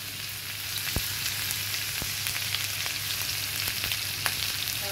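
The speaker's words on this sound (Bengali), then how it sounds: "আমি এখন পেঁয়াজটা ভেজে নিচ্ছি, পেঁয়াজ, কাঁচামরিচ, শুকনা মরিচ, আদা, রসুন, সব কিছু" Onions, green chillies, dried chillies, ginger and garlic fry together in a pan, a continuous close sizzle broken by a few sharp spatula taps and stirring scrapes.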